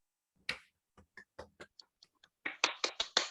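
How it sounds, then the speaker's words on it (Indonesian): Sparse, close claps during an office-organisation microteaching class held over Zoom, a few isolated slaps at first, then a quicker run of four or five louder claps at the end. "tepuk tangan untuk kedua teman-teman kita hari ini"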